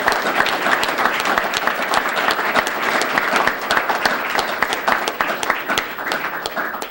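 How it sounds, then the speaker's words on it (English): Steady applause from a crowd, dense clapping that keeps an even level for several seconds without fading. "Let's give the Receivables Exchange a round of applause for this great accomplishment"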